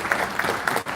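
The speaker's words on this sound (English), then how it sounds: "So you deserve a round of applause as well for being here tonight" Audience applause at an evening community gathering on Black displacement in Halifax, a short burst of dense clapping with a few louder claps standing out.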